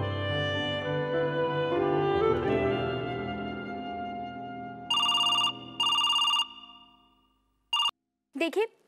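A telephone rings in two long bursts followed by shorter rings after a stretch of fading music, loud and close, with a clipped sound at the end.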